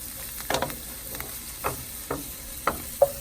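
Onions and garlic sizzle softly in a pan for a Mexican purslane dish in chili sauce, a faint steady hiss punctuated by a handful of brief stirring scrapes, with no voices.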